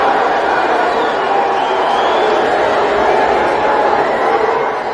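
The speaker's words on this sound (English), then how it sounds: "greeted by many in the crowd with boos" A comedy show crowd in San Francisco jeers Elon Musk on stage, a dense, continuous roar of many voices with scattered shouts and laughter mixed in, loud and sustained throughout.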